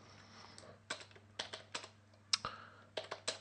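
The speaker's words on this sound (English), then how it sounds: "so that was my awesome typing skills" Bursts of typing on a computer keyboard while programming, quick clusters of crisp key clicks separated by short pauses, close and alone over a faint steady hum.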